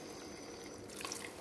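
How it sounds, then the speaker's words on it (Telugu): Water pours softly into a pan of okra and tomato curry, a faint, steady liquid trickle with a slight splashing rise near the end. "కొంచెం వాటర్ పోస్తున్నాను."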